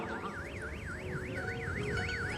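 A warbling electronic start signal at a boat match race rises and falls in a fast, regular sweep, steady and fairly loud over background noise.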